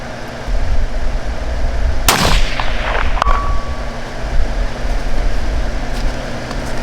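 A single loud rifle shot cracks during a coyote hunt, followed by a sharp echoing tail and a brief metallic ring, against a steady outdoor rumble.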